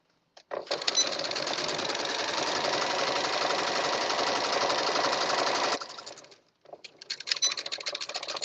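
A sewing machine stitches a girl's dress sash in one long continuous burst of close, rapid whirring, stops briefly, then starts again in shorter runs.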